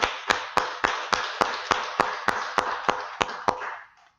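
Church congregation clapping in unison at an Easter thanksgiving service, a dozen sharp, evenly spaced claps over a sustained bed of looser applause that dies away at the end.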